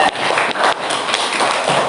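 A classroom group of students applauds together for a fellow group, dense overlapping claps sustained and fairly loud throughout with no pauses.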